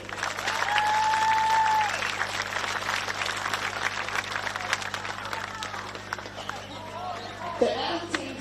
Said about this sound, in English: can we give these girls another huge round of applause